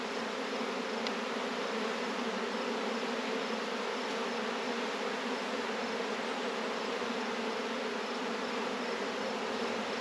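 Honeybees buzzing around a nuc box during a hive split, giving a constant, even hum of many bees nearby for the whole stretch, with no voices.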